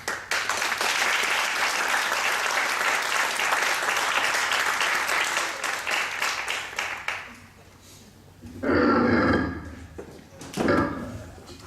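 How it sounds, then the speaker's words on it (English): Warm audience applause welcoming a speaker to the podium at a sermon gathering, sustained clapping for about seven seconds that fades out, followed by a few louder sounds near the microphone. "Could everyone please give a warm round of applause and welcome to Michiko."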